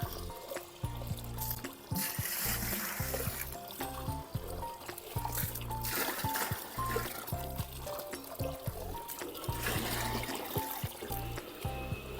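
Water gushing from the outlet of a home biogas plant after a blockage clears, a steady, fairly close rushing pour that runs throughout, with background music faintly underneath.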